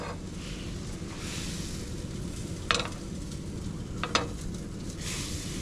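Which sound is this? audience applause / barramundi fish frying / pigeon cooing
barramundi fish frying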